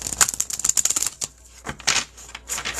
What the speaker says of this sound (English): Now you see me shuffling and shuffling and shuffling